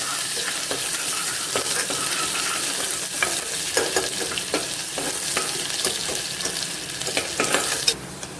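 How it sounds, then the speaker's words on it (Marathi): Chopped onion fries with cumin in hot oil, giving a continuous close sizzle with scattered crackles and stirring scrapes that grow a bit busier toward the end, no talking. "अर्धा कांदा कापलेला तर कापून टाकूया आणि थोडंसं लाल करून घेऊया"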